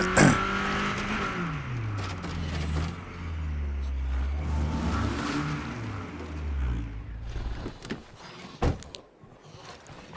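A powerful car engine in the video game State of Decay 2 revs and surges through shifting gears, its droning tone rising and falling over several seconds, loud and continuous with a brief thump near the end.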